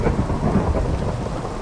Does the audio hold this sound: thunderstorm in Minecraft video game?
yes